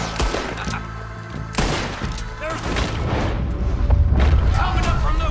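Gunfire in Red Dead Redemption 2 crackles in scattered bursts with heavy booms, growing into a dense, loud rumble toward the end.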